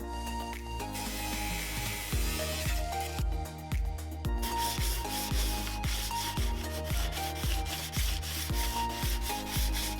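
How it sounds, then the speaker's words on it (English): Wet sanding on a Nissan 240SX car door, a steady loud rubbing scrape with repeated back-and-forth strokes and short rhythmic pulses throughout, no talk. "he's gonna go ahead and start wet sanding this door"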